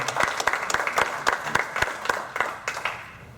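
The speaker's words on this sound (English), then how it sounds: "a big round of applause for these guys" A crowd applauding, with dense, crisp clapping that holds steady for a few seconds at moderate loudness.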